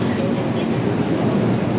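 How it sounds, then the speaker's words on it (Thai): A BTS Skytrain arrives at a Bangkok station at night with a loud, steady rumble and a faint high whine from the wheels or motors, close by and continuous for about two seconds. "ทานี่รถไฟฟ้า BTS นั่นเองเนาะ"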